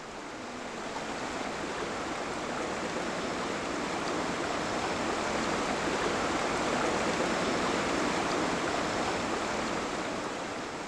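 Stream water flows steadily at Baekyangsa, a traditional Korean Buddhist temple, as a continuous even rushing wash that stays close and unbroken, with no voices.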